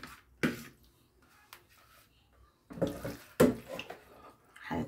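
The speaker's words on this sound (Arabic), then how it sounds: "دلوقتي ننزل المكرونة كلها" Dry macaroni tipped into a pot of water while cooking pasta for a béchamel bake, giving uneven splashes and wet sloshing bursts separated by quieter gaps, heard close up.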